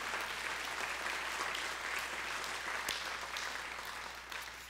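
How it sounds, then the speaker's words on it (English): A church congregation claps in praise, a steady, full wash of many hands clapping that holds at a fairly even level and only eases slightly toward the end. "let's give God one more hand clap of praise."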